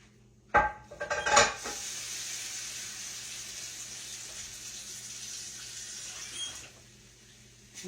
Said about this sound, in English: I'm going to put a little water in this skillet